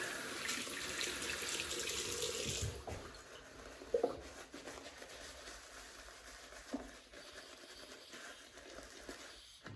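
A tap runs in a sink for rinsing during a wet shave, a steady rushing stream for a few seconds that then cuts off, leaving quiet handling knocks and faint drips.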